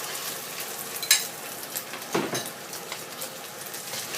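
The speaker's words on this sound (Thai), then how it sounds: "แล้วก็จะทอดให้มันเหลือง" Egg-dipped roti frying in a pan, a soft steady sizzle with a couple of faint clinks and a light scrape partway through.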